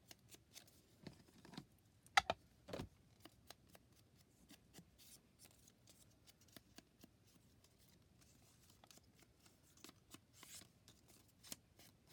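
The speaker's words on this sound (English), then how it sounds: "And then we just need to cut off a little bit of this excess brown." Scissors cut away excess brown paper while making a lap book, giving soft snips and paper rustling at close range, quiet and intermittent with a few sharper cuts.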